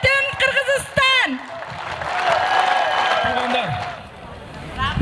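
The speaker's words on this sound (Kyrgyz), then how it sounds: "ушул келген меймандарга туруп бир кол чаап коюңуздарчы" Audience applauding guests at a political rally in Kyrgyzstan; a loud voice speaks at first, then a broad wash of clapping and crowd noise swells and fades over several seconds.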